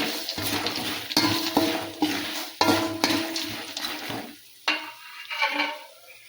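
A spoon scrapes and clatters against a pan while avalakki chuda, a flattened rice snack, is stirred and mixed, with steady rhythmic strokes close by that trail off into softer, sparser scraping.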